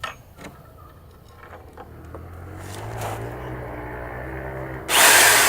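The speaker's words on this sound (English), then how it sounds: "I'm going to put 2 in from that side and 2 in from that side to hold this all together" Close and loud, a drill bursts into a sustained run near the end as it drives a 3-inch screw into wood, after a quieter stretch of handling clicks and a low hum.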